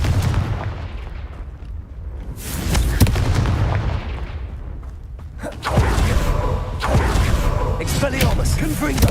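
Spell-blast explosions in a wizarding video game, booming bursts that hit repeatedly over a roaring background, with one big blast near the middle and another around the six-second mark, while a voice talks over them.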